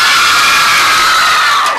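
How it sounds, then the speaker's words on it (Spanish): A loud crowd of girls shouts and screams together at a live music show before an a cappella song, a sustained shrill wall of voices that holds steady and fades slightly at the very end. "pero antes un grito de las chicas."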